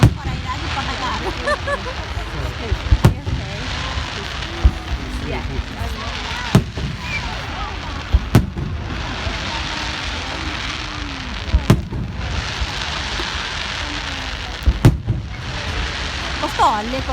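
Bonfire night fireworks at Worthing seafront go off in repeated booming explosions spaced a few seconds apart, with fizzing crackle between bursts and a crowd talking steadily in the background.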